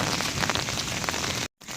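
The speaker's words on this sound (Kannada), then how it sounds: "ಇಷ್ಟು ಜೋರು ಮಳೆ ಅದ" Heavy rain pours steadily on a surface outdoors near a university mess, a dense continuous hiss with scattered drop impacts, briefly cut to silence near the end.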